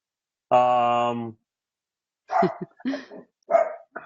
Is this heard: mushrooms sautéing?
no